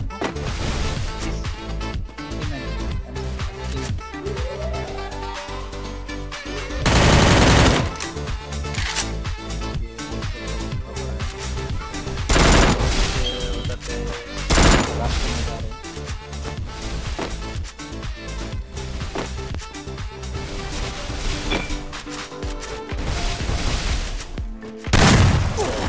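Shotgun fire in Garena Free Fire, with several heavy booming blasts standing out at intervals over a steady bed of game sound and quieter shots.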